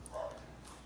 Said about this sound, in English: I don't know if you can hear the dogs in the background.